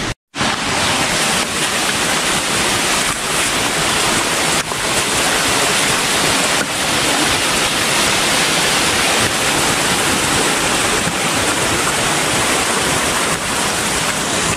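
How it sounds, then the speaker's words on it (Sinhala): Rain falls on the Kuruwita Erathna mountain trail toward Sri Pada as a dense, continuous, loud hiss that stays steady throughout, with no voices over it. "වහිනවා."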